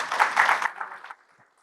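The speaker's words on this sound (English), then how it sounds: "a big round of applause for all our panelists." Round of applause from a conference audience for panelists at an AI-driven security operations event, a dense burst of clapping that tapers off into silence.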